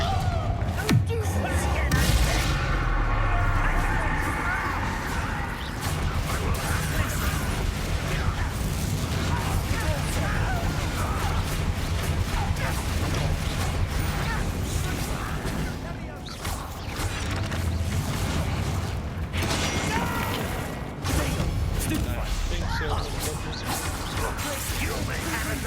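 Explosive fire-spell combat in Hogwarts Legacy: dense, continuous booms, crashes and bursting pops layered over a busy game soundtrack, loud and sustained throughout with a voice speaking over parts of it.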